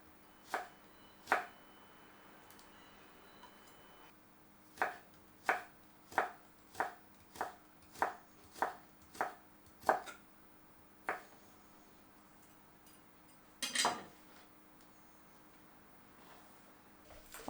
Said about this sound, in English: Stack up some of the slices. Then cut into thin strips lengthwise.